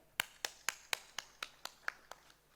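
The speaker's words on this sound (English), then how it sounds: "A big round of applause." Around ten sharp, evenly spaced claps ring out in a slow, steady rhythm at a gathering of school principals, crisp and fairly close, fading slightly toward the end.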